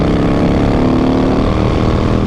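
A Harley-Davidson Sportster Roadster motorcycle engine drones loudly and continuously while being ridden, a dense, steady rumble with wind noise and no voices.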